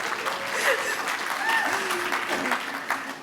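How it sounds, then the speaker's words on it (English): Audience applause fills a hall at a cultural diversity awards ceremony, a steady broadband clatter of clapping lasting a few seconds with a little murmuring underneath. "Applause."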